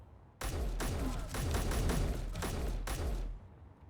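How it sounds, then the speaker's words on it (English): Weapon fire in the Space Engineers video game, a rapid burst of repeated gunshots lasting a few seconds, steady and fairly loud, with no speech. "I'm shooting him."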